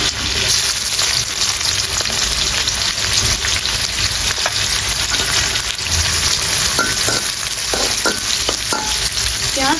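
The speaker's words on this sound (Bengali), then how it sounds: "তেলের মধ্যে দিয়েছি শুকনো মরিচ আর তেজপাতা এখন দিয়ে দেবো পেঁয়াজ কুচি" Chopped onion frying in hot oil with dried red chili and bay leaves, a steady loud sizzle that runs throughout, with stirring scrapes and clinks and a few brief taps near the end.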